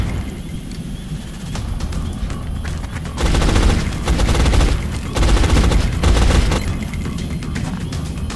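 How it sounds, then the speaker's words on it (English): In the XCOM: Enemy Unknown video game, rapid gunfire erupts in dense, loud bursts across the middle of the clip. A quieter background of game sound comes before and after the bursts. "he's firing fast"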